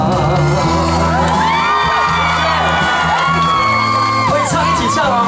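Concert audience screaming and cheering at a Taiwanese singer's event, a loud continuous roar of whoops and shouts over music, filling the whole stretch.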